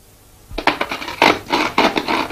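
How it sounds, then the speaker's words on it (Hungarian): A small narrow saw cuts around the bottom plate of a Hungarian hurdy-gurdy, wood about 6-7 mm thick. It makes close, loud, rhythmic rasping strokes, about five of them, with no talk. "fogom a kis keskeny fűrészt,"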